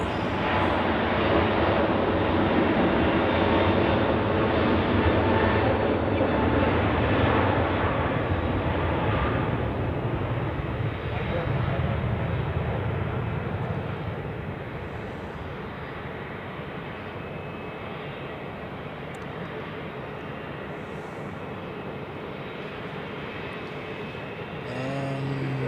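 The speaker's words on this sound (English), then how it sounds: "There are departures on 16 going on currently" Jet aircraft taking off from runway 16 at Zurich Airport in winter, a loud sustained engine roar close by that eases partway through and trails off into a lower, steady rumble.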